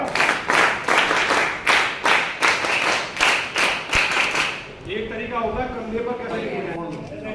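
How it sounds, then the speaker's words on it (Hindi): Group of people at a B.Ed scout guide camp clapping hands in a steady rhythmic unison for several seconds. The clapping fades into chatter and voices talking. "स्टार्ट कर ताली बजा।"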